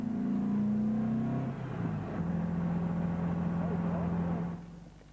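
A custom VW engine fitted with Carrera velocity stacks revs nearby, a deep droning note that holds steady, dips and rises again before fading away.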